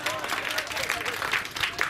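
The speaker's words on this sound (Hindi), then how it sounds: "कम से कम जोरदार ताली इनके लिए जरूर बजनी चाहिए" An audience at a public awareness gathering in Benipur applauds in a fairly dense patter of clapping, with talking and crowd murmur mixed in throughout.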